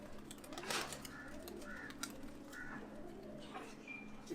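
Highflyer pigeons coo softly in a loft in Kathmandu, Nepal, in repeated low rolling calls, fairly close, over a faint steady background hum.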